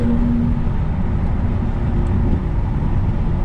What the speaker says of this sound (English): Oh, that's a proper V8 though,